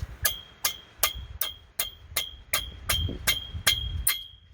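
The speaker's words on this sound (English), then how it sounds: "gently tap it in there with a hammer" A hammer taps a part back into its two slots, about ten evenly spaced metallic strikes with a bright ringing clink, close and moderately loud.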